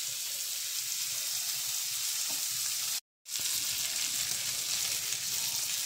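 Butter melts and sizzles in hot oil in a frying pan for home-cooked pork steak, a steady close hiss broken by a brief moment of silence.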